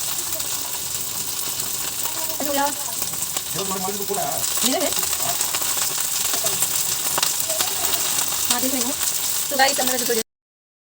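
Cauliflower sabzi with masala and tomato fries in a pan, giving a steady, broad sizzle throughout with scattered clinks and stirring scrapes, while a person talks intermittently over it.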